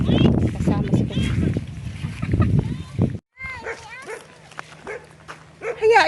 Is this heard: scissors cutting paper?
no